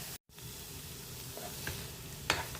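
Ground masala paste sizzling in a pan, with a steady frying hiss and a few soft stirring scrapes, heard close up after a brief dropout at the start, with no talking.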